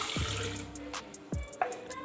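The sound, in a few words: water being poured for mulberry sharbat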